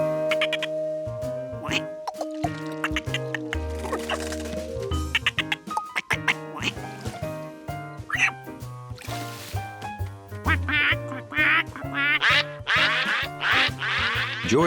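Cartoon ducks quack in a short burst amid lively orchestral cartoon music, which plays steadily throughout with no talking.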